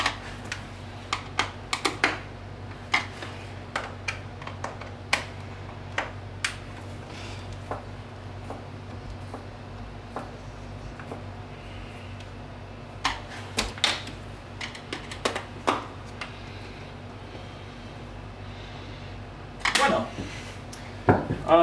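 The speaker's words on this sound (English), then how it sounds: "Hear everything settling as I torque the first screw." A screw is torqued down during repair of a SEBO Felix upright vacuum cleaner, producing a steady run of small sharp clicks and ticks over a low background hum, with a denser burst of clicks near the end.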